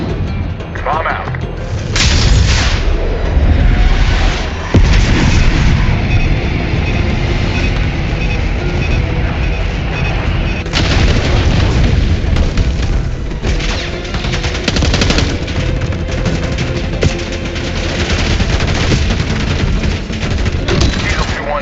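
Bomb explosions during an air strike in Call of Duty: Black Ops 6, loud booming blasts over a constant roar of gunfire and rumble, with voices talking over it.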